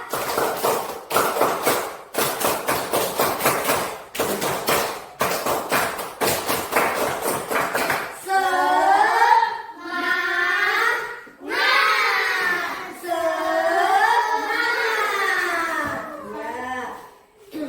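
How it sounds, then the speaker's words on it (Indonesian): A class of children claps in rhythmic patterns for about eight seconds with sharp, tight beats. Young voices then shout a chant together. "coba kalian tepuk 1 kali, tepuk 2 kali, tepuk semangat"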